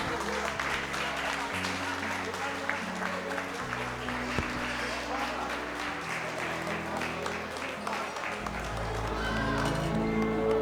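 Applause from relatives at a family gathering honoring an elder with a family-tree keepsake, steady group clapping throughout with voices talking over it and background music.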